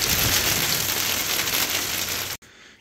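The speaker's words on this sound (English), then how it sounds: "It's just hailing." Hail falls steadily outside near a greenhouse on a cold day, a dense, continuous patter against surfaces that stays loud and even, then cuts off abruptly near the end.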